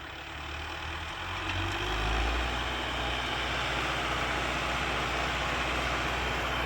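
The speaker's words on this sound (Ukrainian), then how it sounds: "Так що на шелудьківських гектарах працює трактор." An MTZ tractor pulling a BDT disc harrow across field hectares, a steady low engine drone with a rumbling, grinding undertone that swells slightly early on, then holds constant throughout, with no voices.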